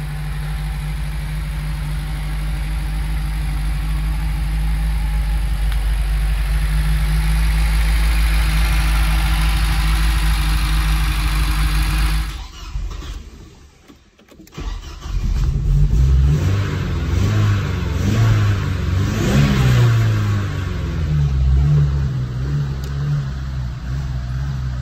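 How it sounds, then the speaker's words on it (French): A Porsche 924 Turbo engine idles with a deep steady rumble, cuts out briefly, then fires up again and settles into a lumpy idle with slight revs. "elle démarre. On va la faire chauffer."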